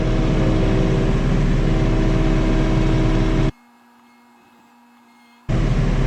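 A John Deere 3046R compact tractor's engine runs loud and steady nearby, cutting out abruptly for about two seconds to near silence with a faint hum, then resuming at the same level.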